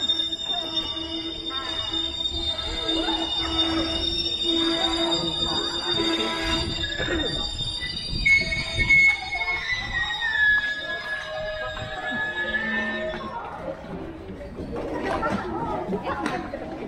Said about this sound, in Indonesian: Suara di kereta